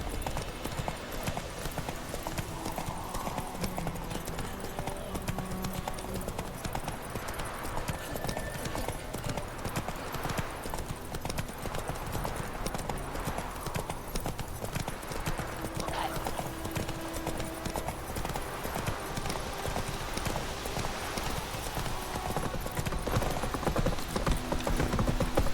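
A horse gallops in The Witcher 3, with a continuous rapid clip-clop of hooves under steady ambient game sound, and a voice speaks briefly over it.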